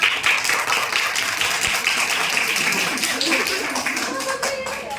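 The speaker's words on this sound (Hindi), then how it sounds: "तो आप भी बजाएं इनके लिए जोरदार तालियां।" An audience claps for a guest scientist at a state-level science drama competition at a science centre in Itanagar, a steady patter of many hands throughout with voices mixed in.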